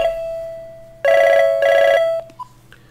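A telephone ringing loudly nearby: a sustained electronic tone, then two bursts of warbling trills, followed by a short beep and a faint click, with no speech.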